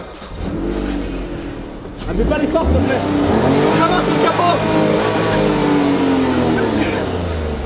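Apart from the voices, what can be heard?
car engine revving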